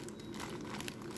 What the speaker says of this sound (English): Just my scissors and open this.